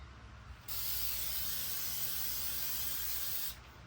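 A can of aerosol cleaner, brake clean, sprays down an unsprung clutch and flywheel from an S550 Mustang drift car: one loud, continuous hissing blast of about three seconds, close up, starting and stopping abruptly.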